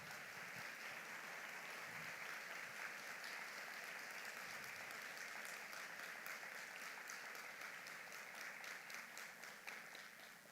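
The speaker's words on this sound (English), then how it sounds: "Can you please get another round of applause for them?" Soft, continuous applause from the audience fills the hall at the Journey to Justice 2024 Houston 15th anniversary luncheon. It holds steady for about ten seconds, then tapers off slightly at the end.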